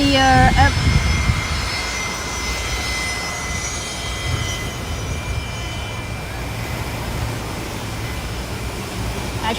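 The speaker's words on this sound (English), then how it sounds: "the flight that we just saw, the American Airlines, was from Miami" American Airlines airliner arriving from Miami on landing approach over Maho Beach, a steady broad engine roar that holds fairly loud and even, with some voices and background activity mixed in early on.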